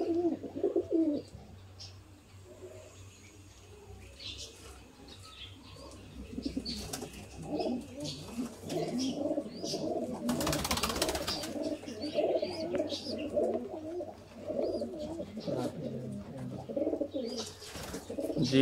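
Neel-dumay (kalduma) pigeons kept by fanciers in Sialkot coo with low throaty murmurs that run steadily throughout, joined by a few bursts of wing flapping and scattered chirps from other birds nearby.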